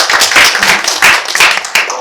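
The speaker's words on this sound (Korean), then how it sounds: "박수 한번 주세요" A burst of clapping from a group, brisk and close, lasting a couple of seconds with uneven rhythm.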